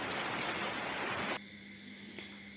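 A steady wash of falling rain hisses, then cuts off abruptly halfway through, leaving a faint low hum.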